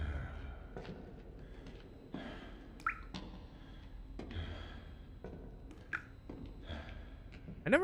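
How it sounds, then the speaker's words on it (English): A character panting in the video game Resident Evil Code Veronica: quiet, repeated breathy gasps and exhales at an uneven rhythm, faint and close, with occasional soft drip-like clicks in the background. "I never noticed that you could hear Rodrigo panting"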